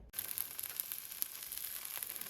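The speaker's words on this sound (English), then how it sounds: "Listen to the sizzle." A sandwich frying in a pan, a steady close crackling sizzle that starts abruptly and continues with bright fizzing pops throughout.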